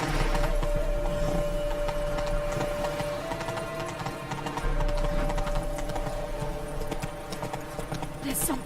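Roach, Geralt's horse in The Witcher 3, walks at a steady pace with rhythmic hoof clip-clops, close and continuous beneath a constant ambient hum and game music.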